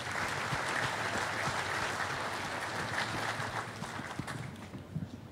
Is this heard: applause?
yes